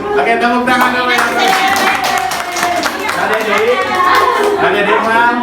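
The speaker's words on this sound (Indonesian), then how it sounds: "tepuk tangan dulu ya" A group of children claps hands in a school setting, rhythmic clapping mixed with lively chatter and voices talking throughout, close and loud.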